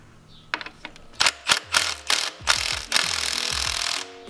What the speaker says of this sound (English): I'm going to use the impact gun.